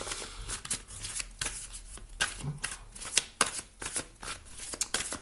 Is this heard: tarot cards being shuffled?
yes